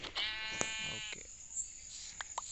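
A sheep in the Minecraft video game bleats once, a short wavering synthetic cry, followed by small clicking game sounds at low volume.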